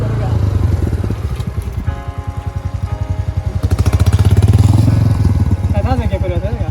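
Motorcycle engine revving and chugging loudly as the bike slips and rides through mud on a wet track near Jahaz Banda in Kumrat, northern Pakistan, with someone talking over the steady throb.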